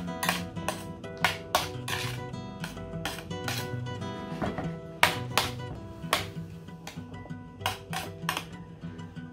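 Carrots being stirred in balsamic vinegar in a metal tray, with repeated scraping, clinking and rubbing strokes close by, some louder sharp knocks of the utensil against the tray.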